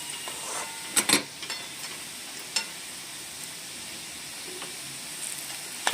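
Quiet sizzle of potatoes frying in a kadai with a few sharp clinks of a utensil against the metal, fairly close.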